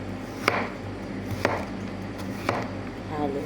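Knife chopping upo (bottle gourd) on a board, three sharp evenly spaced cuts about a second apart, close and clear over a quiet room hum.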